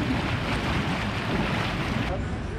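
Bubbling hot tub water at a spa's thermal suite rushes and fizzes continuously up close, a steady dense churn that stays even in loudness from start to finish.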